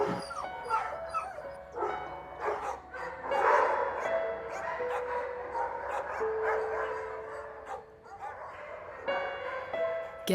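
Several abandoned dogs in a shelter yip, whimper and bark in overlapping bursts, fairly close and continuous, with faint voices mixed in.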